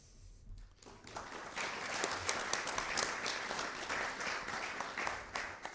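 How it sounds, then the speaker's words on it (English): Warm applause from an audience at an amateur radio conference talk starts after a brief quiet moment, then continues as steady, fairly soft clapping from a modest crowd. "please give him a warm applause."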